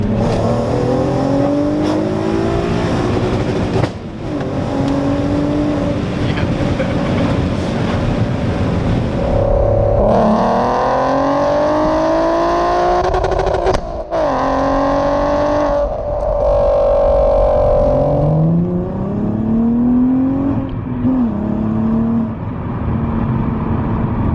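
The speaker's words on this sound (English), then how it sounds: "to get it to pop, to redline it for a few seconds, and then put the clutch in" A heavily modified VW Golf R32 engine revs hard and loud to the limiter in repeated bursts, its pitch climbing and falling, with crackling exhaust pops as it drops off.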